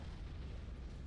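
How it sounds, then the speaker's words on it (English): Void explosions of ships in Battlefleet Gothic make a faint, continuous low rumble of overlapping booms over a brief stretch, with no voices. "We got void explosions everywhere"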